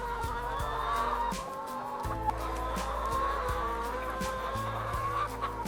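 Chickens on a hill farm cluck steadily and close by, with several birds overlapping in a busy barnyard chorus over a low rumbling background and occasional louder squawks.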